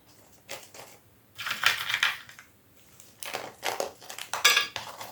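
Fresh bark chips poured into an orchid pot in several separate bursts, each a close, dry rattling crunch with short quiet pauses between them.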